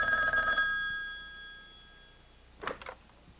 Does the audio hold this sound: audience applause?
no